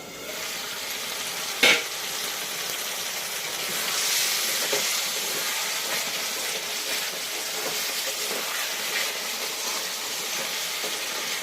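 Spiced masala for a Bengali rohu fish curry being stirred and fried in a pan after the lid comes off, a steady broad sizzle with scraping stirs throughout and one sharp clank near the start.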